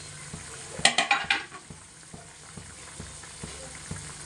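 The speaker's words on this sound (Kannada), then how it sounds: "ಟೊಮೊಟೊ ಹಾಕ್ತಾ ಇದ್ದೀವಿ." Tomatoes go into a ridge gourd curry cooking in a pan. A quick clatter of utensils and stirring is followed by a faint, steady sizzle with light scattered ticks.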